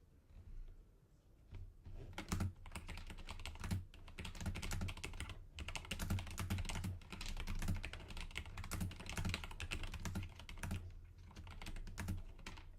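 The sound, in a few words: typing on computer keyboard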